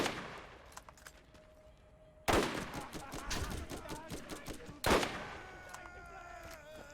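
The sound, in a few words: gunfire from a gun in the video game Borderlands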